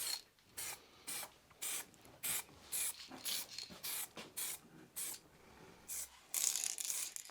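Short repeated bursts of brown spray paint hiss onto a Vecna Halloween decoration, about a dozen close, loud spurts in a steady stop-start rhythm with brief pauses between them.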